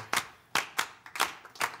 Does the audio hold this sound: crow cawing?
no